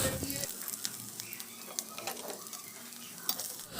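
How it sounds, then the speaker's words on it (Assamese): Drumstick pieces frying in a wok, a soft sizzle layered with scraping stirring and clinks of a utensil against the pan, close and moderately quiet. "এনেদৰে অলপ সময়ৰ কাৰণে ফ্ৰাই কৰি লওঁ।"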